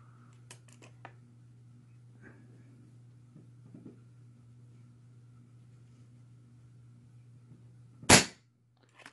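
A single sharp airgun report from an RTI Priest .25 fired through a chronograph, a loud crisp crack near the end after a stretch of steady low hum and faint handling clicks.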